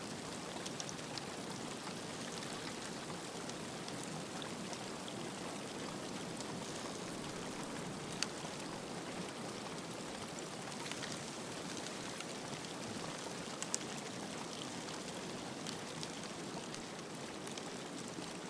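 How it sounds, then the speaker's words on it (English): A steady, even rush of falling water from an icy waterfall in the survival game The Long Dark, faint and constant with a hissing, rain-like texture and no talk. "You can hear the icy waterfall."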